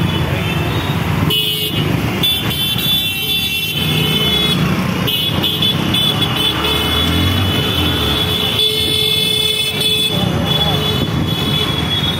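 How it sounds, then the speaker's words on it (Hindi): Busy road traffic with car horns, engines and road noise filling the air, several short horn toots standing out clearly above the steady roar while people talk nearby. "पूरा ट्रैफिक है देखो इधर"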